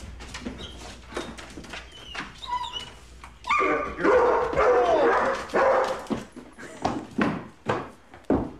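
A pet dog barks loudly and repeatedly close by, mixing sharp bow-wow barks with high yips and whimpering, the barks arriving in an uneven rhythm that grows more insistent partway through.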